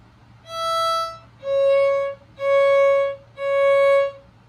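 A violin plays four even, sustained bowed notes on C, each separated by a short gap, clear and close with no talking.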